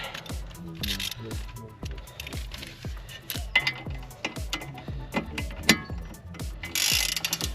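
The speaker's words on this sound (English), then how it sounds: "now let's loosen these Allen key bolts" Loosening the Allen bolts on a 1997-2002 BMW Z3 front brake with a 7mm Allen socket, a steady run of close, evenly spaced ratchet clicks.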